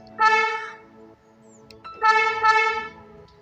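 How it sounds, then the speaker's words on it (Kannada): A car's central-locking horn sounds when the lock/unlock button on a BS6 vehicle is held down, giving two loud electronic honks close by, the second longer with a brief rise partway, separated by a short pause. "lock unlock button long press ಮಾಡಿದರೆ ಈಗ ಹಾರ್ನ್ ಆಕ್ಟಿವೇಶನ್ ಆಗುತ್ತೆ"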